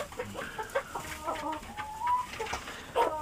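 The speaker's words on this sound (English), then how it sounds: "There's a little mutt chicken coming for a drink." A small mixed-breed chicken clucks close by at a backyard coop, several short bright clucks spread through the moment with a faint background of other birds and no talking.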